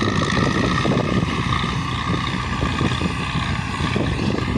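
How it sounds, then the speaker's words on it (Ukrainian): A tractor engine drones steadily and loudly throughout during field cultivation, with a continuous rumble and rhythmic chugging, close and unbroken. "А слухайте, як трактор робить зараз"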